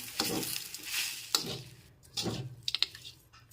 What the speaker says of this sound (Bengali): এবার সব কিছু একসাথে খুব ভালো করে মিশিয়ে দিচ্ছি